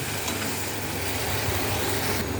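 Ginger, spices and raw tomato frying in a pan, a dense, continuous sizzle that stays close and steady throughout.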